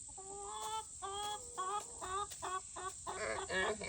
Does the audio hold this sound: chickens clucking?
yes